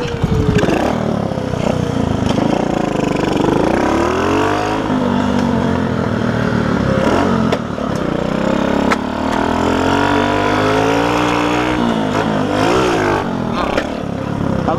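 Motorcycle engine starts and revs hard through most of the passage, its pitch climbing and falling in repeated surges. The bike is ridden during wheelie practice, and there is some background talk.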